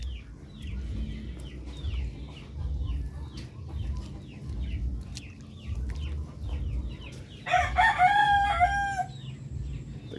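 Darag native chickens on a Philippine farm crow and cluck, with a loud rooster crow near the end standing out over steady background clucking and low farmyard rumble.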